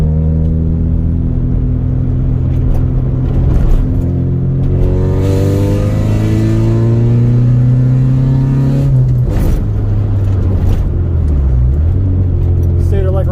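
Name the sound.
Honda Integra stock B20B engine at wide open throttle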